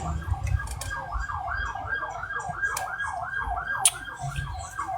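An ambulance siren wails continuously in a repeating up-and-down pattern, fairly close, over low rumbling traffic noise as vehicles fail to give way.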